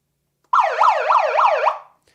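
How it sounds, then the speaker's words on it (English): A loud electronic emergency siren bought for election night coverage, sounding alone in a rapid rising-and-falling wail for just over a second before cutting off. "Now, I bought this siren specifically for this."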